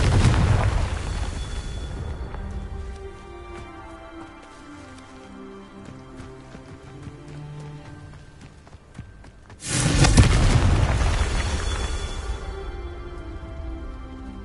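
Confringo fire spell blasts in the Hogwarts Legacy game: a loud burst opens, a rumbling tail fades, then a second heavy explosion hits near the end, with no talking.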